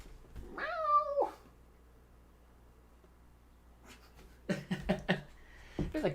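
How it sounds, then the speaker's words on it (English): A cat right outside a window gives one drawn-out, wavering meow, followed by a pause and then several shorter, choppy meows, moderately faint against a quiet room. "That was a cat right outside the window."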